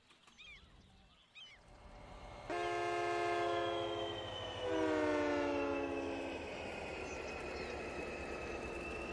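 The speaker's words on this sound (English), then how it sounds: "I love the train whistle." A cargo train in the Cities: Skylines city-building game passes with its whistle sounding in two long, bright, harmonic blasts over a steady rumble of rolling rail cars.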